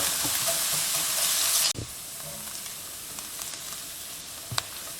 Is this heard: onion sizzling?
yes